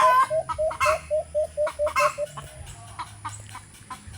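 A chicken clucks in a rural yard, a quick run of about a dozen evenly spaced clucks close by, then fading into quieter scattered sounds.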